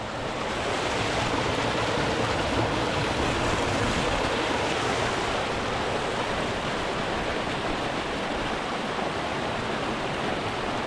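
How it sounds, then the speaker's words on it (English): Continuous rushing of a glacier stream in Torres del Paine National Park, Patagonia, Chile, a broad steady roar like a fast stream, loud and unbroken throughout with no voices. "So last time, refilling with water."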